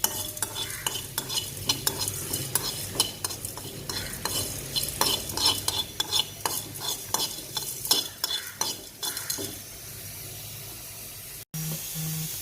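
Spices dry roasting in a pan over a low flame for Tamil pippili rasam, stirred with quick scraping and rattling strokes over a soft hiss. The stirring stops near the end, leaving a low steady background.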